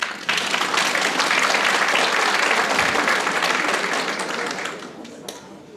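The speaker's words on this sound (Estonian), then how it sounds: "võite ise endale suure aplausi teha" Sustained applause from a seated audience at a university graduation ceremony, dense even clapping that slowly fades toward the end.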